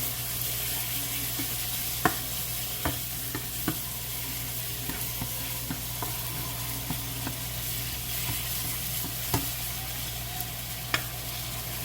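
Beef steak meat fries in a pan on high heat with a constant loud sizzle, broken by occasional sharp clicks and scrapes of stirring, and no talking.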